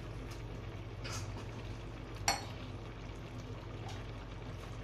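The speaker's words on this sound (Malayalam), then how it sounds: "അപ്പോൾ ആ ബീഫ് വേവിച്ച വെള്ളമാണിത്, അതും കൂടെ ഇതിനകത്തിലോട്ട് ഒഴിച്ച് കൊടുക്കുവാണേ" Beef cooking stock is poured into a pot for Kerala-style meat rice, a soft, steady pouring stream with a brief clink partway through.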